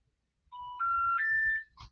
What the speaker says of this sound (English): It's ringing. It says calling.